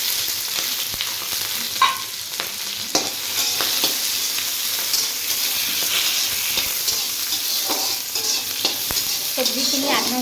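Onions and dried chillies with five-spice seeds fry in hot oil, giving a bright continuous sizzle close by, broken by frequent scraping stirs.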